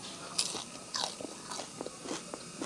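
Crisp crunching bites into dried, stir-fried small fish, close and fairly quiet, a few sharp crackly bites spread irregularly with softer chewing crunches between them.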